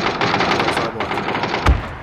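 Rapid automatic gunfire in the battle-royale game PUBG, a dense stream of shots fired in sustained bursts with a louder, heavier bang near the end, no talk over it.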